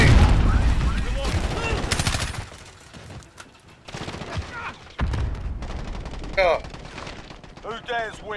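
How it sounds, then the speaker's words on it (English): Grenade blast and bursts of rapid gunfire in the video game Call of Duty: Modern Warfare, in a cave setting, loud and close with repeated volleys, under game radio chatter and player voices. "Oh, grenade."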